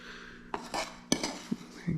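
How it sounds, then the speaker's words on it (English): A tool scrapes and clinks through sand mixed with melted wax for trapping, making several gritty stirring strokes and knocks against the container. "it's just keeping it stirred up so the wax gets on everything"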